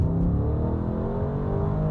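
A 2022 Bentley Bentayga S engine accelerating hard, a loud deep rumble with a rising harmonic whine heard from inside the cabin, continuous and without talking.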